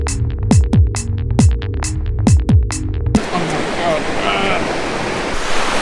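Surf breaking and washing along a beach in Tarifa during a first stand-up paddleboard outing, a broad steady roar of waves and wind that follows a few seconds of loud rhythmic thumping and knocking.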